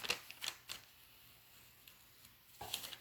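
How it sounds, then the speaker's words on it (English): A handheld finger cutter slices along the edge of a file folder on a cutting mat, producing a few short, sharp scratchy clicks near the start and end with quiet pauses between, close and fairly faint. "I'm going to take my finger cutter, and I'm just going to cut along the edge of this file folder"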